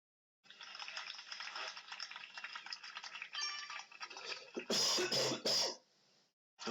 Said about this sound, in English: Coughing and spluttering here